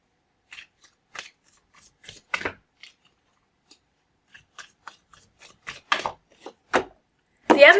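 Tarot cards are shuffled in short, crisp rustling bursts, close and fairly quiet, separated by gaps of silence, with a longer riffle at the end.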